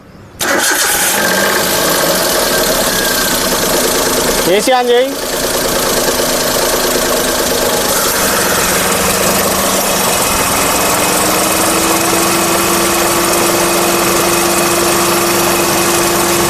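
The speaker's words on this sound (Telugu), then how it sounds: "స్టార్ట్ చేయండి సార్ ఒకసారి" A Maruti Alto's engine cranks and catches, then settles into a steady, loud idle close by. Someone speaks briefly as it runs.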